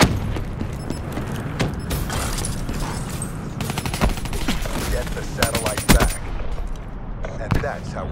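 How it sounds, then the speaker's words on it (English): Call of Duty: Black Ops 3 combat plays out as loud bursts of rapid gunfire, sharp single shots and a booming frag grenade blast, all dense and close, with voices talking over the battle. "Incoming frag."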